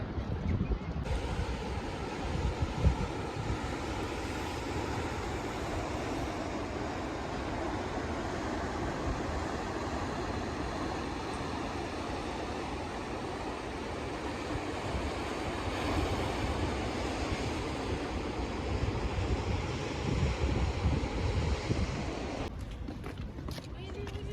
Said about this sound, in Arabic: هنا الدراري غنوريكم البحر ديال الرباط